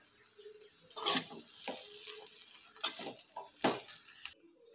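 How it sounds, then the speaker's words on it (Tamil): Egg noodles being tossed with spring onion in a pan, giving soft scraping and stirring strokes that come in a few separate bursts over a faint sizzle. "இப்போ அதை நல்லா மிக்ஸ் பண்ணி விட்டுடலாம்."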